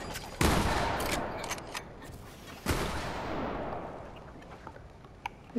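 Two sharp, loud sniper rifle shots in Fortnite crack out roughly two seconds apart, each followed by a long decaying echo, with a few faint clicks and small in-game sounds between them.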